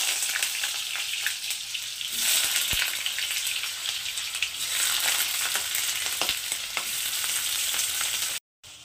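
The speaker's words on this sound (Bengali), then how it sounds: "প্রথমে আমি আলুগুলোকে তেলে দিয়ে দিচ্ছি। আলুগুলোকে ভেজে নেব।" Potatoes frying in hot mustard oil in a wok, a loud continuous sizzle with occasional scraping stirs and crackles, close up, cutting out briefly near the end, no talking.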